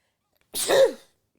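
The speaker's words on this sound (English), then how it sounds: "And I feel like I gotta sneeze again." A single sharp human sneeze, close and loud, bursting out of silence and fading within half a second.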